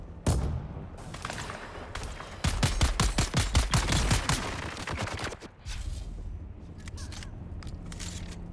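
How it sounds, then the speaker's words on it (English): Gunshots ring out over and over in the video game Dune Awakening: a few scattered shots, then a rapid, loud burst of close repeated fire, then more sporadic cracks at the end. No one speaks. "I'm gonna take 20 shots to kill this guy."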